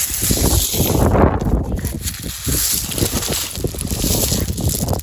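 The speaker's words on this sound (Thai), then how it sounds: "ลมแรงลมแรง" Strong wind blows steadily across a microphone on a seashore, a loud, continuous gusty roar with buffeting, while people talk underneath.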